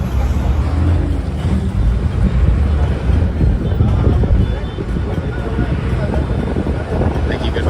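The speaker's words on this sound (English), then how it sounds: "So there's nothing I can do about the wind." Wind buffets and roars at the microphone through an open car window, a rough low rumble over road noise, loud and continuous throughout.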